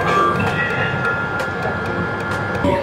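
A train hums at a rail station near Batu Caves, Malaysia, with a steady mechanical drone and faint ticks and clatters close by; no one speaks.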